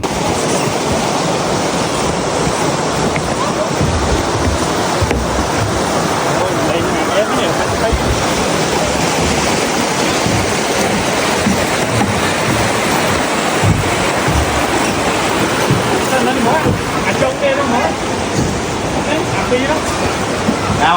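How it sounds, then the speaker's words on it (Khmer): Continuous broadband roar of rushing water at Chrok Lgneang waterfall in Pursat province, Cambodia, steady and loud throughout with no breaks, heard close by. "ដើម្បីស្ដាប់ចម្រៀងទឹកជ្រោះធ្លាក់"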